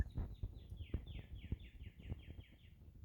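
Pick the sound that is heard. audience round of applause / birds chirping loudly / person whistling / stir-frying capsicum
birds chirping loudly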